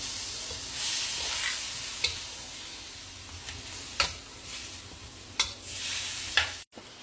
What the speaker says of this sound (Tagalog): haluin lang natin para mag-mix siya.